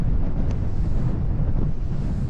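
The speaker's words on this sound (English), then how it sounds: "God, it's windy today" Strong wind buffeting a microphone outdoors while walking to a windmill trig point, a constant deep rumbling roar with gusty fluctuations, loud and close, no voices.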